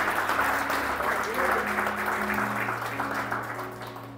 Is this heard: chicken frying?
no